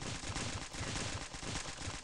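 Rapid gunfire in the Stick Warfare Blood Strike multiplayer game, a dense stream of shots with a steady rhythm and even loudness throughout.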